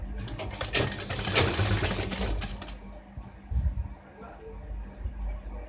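A sewing machine stitches the waistband of men's formal trousers in a loud, rapid mechanical burst for a few seconds, then fades to quieter, intermittent running.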